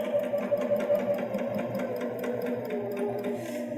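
A Baby Lock Jazz II sewing machine stitches fabric in a steady, rapid mechanical whir with a regular needle rhythm, close and continuous with no talking.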